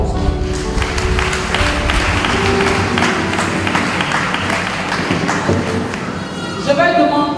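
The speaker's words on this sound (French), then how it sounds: "Applaudissez-moi." A church congregation applauds at a harvest festival service in Côte d'Ivoire, dense, loud clapping and thumping filling the room under a voice, ending as a brief tonal sound enters.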